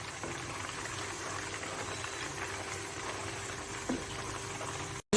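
Malai simmering into desi ghee in a pan, a steady soft bubbling sizzle with faint low hum throughout, close and even, with a brief clatter near the end.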